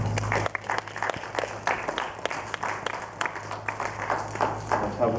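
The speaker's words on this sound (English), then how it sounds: "Let's have one more round of applause for our great performers" Audience applause after a concert performance, a steady wash of many hands clapping that carries on for several seconds, moderately loud, with faint voices mixed in.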